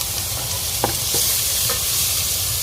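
Chopped onions and garlic sizzle loudly in a hot pan for chilli con carne, a close, steady frying hiss broken by a couple of quick stirring scrapes.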